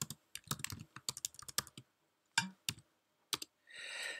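Password being typed on a computer keyboard, quick bursts of crisp close key clicks with short pauses, ending in a brief soft rustle.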